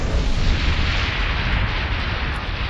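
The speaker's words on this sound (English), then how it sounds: "It's kind of like an absolute zero cannon, which is hard to aim." Absolute zero cannon attack fired by a kaiju in a modded Ark Survival Evolved, a loud sustained roaring blast like a heavy explosion rumble, steady and dense throughout without speech.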